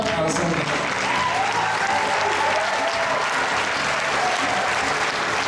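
An audience applauds at a choreographic dance ensemble's concert in Mtskheta, with dense, sustained clapping filling the hall at a steady volume from start to finish.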